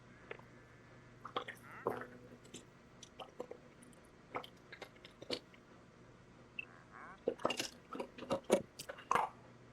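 A person drinking water in quiet, close gulps and wet swallowing clicks, irregular at first and then a quicker run of swallows toward the end.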